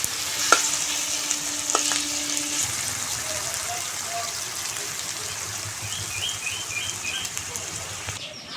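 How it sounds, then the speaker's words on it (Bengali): Sliced onion and garlic paste hiss and sizzle in an oiled pan while being stirred, with scraping strokes early on and a steady frying crackle throughout; no voices. "রসুনটা পেঁয়াজের সঙ্গে খুব ভালোভাবে নেড়ে চেড়ে পেঁয়াজ রসুন একসঙ্গে লাল করে ভেজে নেব।"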